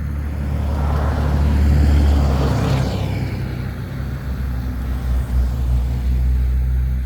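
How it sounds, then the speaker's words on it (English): Road traffic rumbles past a roadside drainage ditch after heavy rain, a steady loud low drone with a vehicle swelling and passing by, no voices. "I apologize about the traffic noise"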